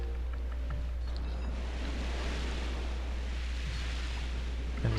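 Ocean waves from the video game Paper Mario: The Thousand-Year Door make a steady, unbroken wash of surf over a low constant hum, with no talking.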